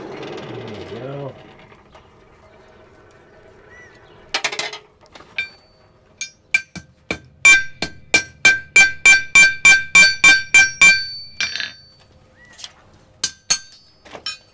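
Blacksmith hammering the head onto a nail set in a nail header, a metal plate with a tapered square hole: a fast, steady run of about a dozen sharp, ringing metal strikes, preceded by a brief voice and a few scattered taps, then a final flurry.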